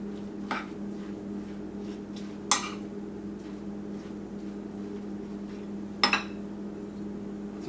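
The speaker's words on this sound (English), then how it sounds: "Stir this up a bit." A spoon scrapes and clinks against a bowl while stirring fresh pico de gallo salsa seasoned with pepper, cumin and onion powder; three or four distinct clinks over a low steady background hum, with no talking.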